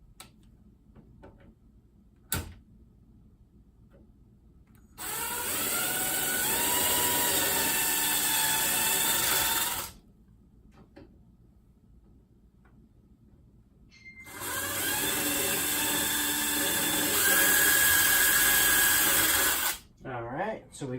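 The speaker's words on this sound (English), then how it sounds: "All right, let's pre-drill this and make it in." Power drill pre-drilling holes into a kitchen cabinet for new handles, two loud sustained whining runs of about five seconds each with quiet gaps and a sharp tap between them.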